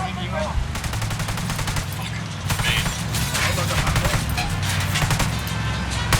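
Rapid automatic gunfire aimed at a helicopter in Ghost Recon Wildlands, dense bursts of loud cracking shots repeating in clusters over continuous game background noise.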